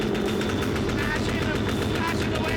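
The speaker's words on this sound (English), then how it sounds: "Sometimes the potash sticks to the insides of the wagons, so they work it free with an air cannon." Air cannon fired inside rail wagons to break loose stuck potash fertilizer at a Lithuanian rail cargo yard, heard as a dense, loud, continuous barrage of rapid blasts and rattling impacts that carries on without pause.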